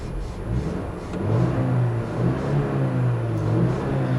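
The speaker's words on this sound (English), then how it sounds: "what you're hearing is a 2-liter turbocharged direct injection 4-cylinder" The 2-liter turbocharged direct-injection four-cylinder engine of a 2015 Mercedes-Benz CLA250 hums and revs steadily, its low drone rising and falling, close and fairly loud with no talking.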